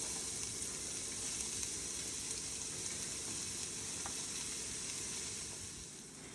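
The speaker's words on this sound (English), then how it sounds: "Now that the pan or the skillet is really hot, we're gonna go ahead and add in our chopped onions" Chopped onions frying in a very hot skillet, a faint, even hiss of sizzling that holds steady throughout and fades slightly at the end.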